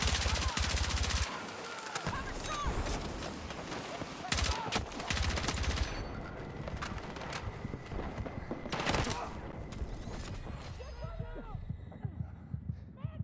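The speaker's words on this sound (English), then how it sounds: "I was putting shots into him." Gunfire in a Battlefield match, rapid bursts and scattered shots at moderate loudness within dense game noise, with some talk mixed in.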